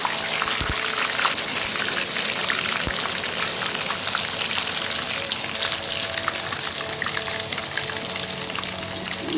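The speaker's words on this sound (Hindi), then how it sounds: "अब मैं डालूँगी इसमें प्याज की पेस्ट" Onion paste frying in hot oil with curry leaves in a pan, a steady, close, crackling sizzle that runs evenly throughout with a couple of low knocks and no talking.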